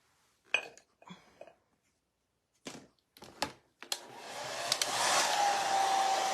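Hair dryer switching on near the end to dry painted Dollar Tree Valentine decor, a steady close whoosh with a faint whine, preceded by a few light clinks and taps of objects being handled.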